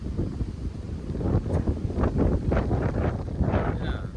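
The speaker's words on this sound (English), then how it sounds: "The gust coming in." Gusts of wind buffet the microphone outdoors while viewing rural land in Ceredigion, a steady loud rumble swelling and easing across the clip with no one speaking.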